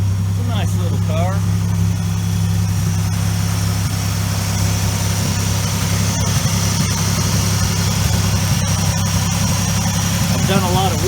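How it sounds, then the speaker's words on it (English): A 1980 Buick Regal Turbo Sport Coupe with a draw-through turbo idles through a custom glass-pack side pipe exhaust, giving a loud, steady, deep rumble for the whole stretch, with a voice talking faintly over it. "Nice little custom side pipe exhaust,"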